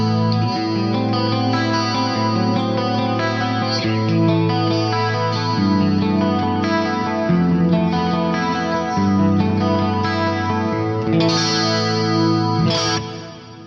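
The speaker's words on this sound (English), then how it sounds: "I have a beautiful sounding chorus on my clean tone" Clean electric guitar chords shimmering with a lush chorus effect and spacious reverb, playing continuously at a steady, full volume.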